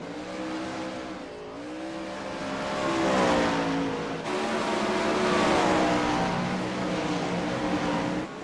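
Several 410 sprint-style race cars run laps on a dirt track, their engines droning and revving loudly as they swell and pass, a continuous layered roar with no talk.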